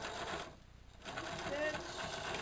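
A sewing machine runs along the edge of a beach towel, a close continuous motor hum with rapid stitching rattle, briefly dipping before resuming, with a voice talking over it.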